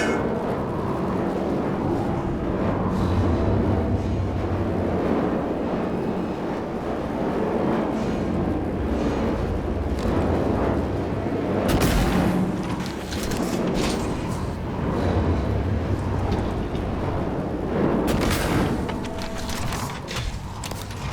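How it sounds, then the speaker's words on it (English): A recycler grenade goes off in the game Prey (2017), with a long churning mechanical whir and grinding rumble that swells in bursts over about twenty seconds, loud and continuous. "One recycler grenade to get them all out."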